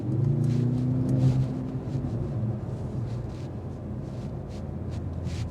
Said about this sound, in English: as you get up to a higher speed, you do hear the road noise filter in